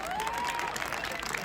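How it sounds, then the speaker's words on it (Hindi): Audience at a poetry recital breaks into steady applause, a brief dense wash of clapping with faint voices mixed in. "बजाओ ताली एक बार।"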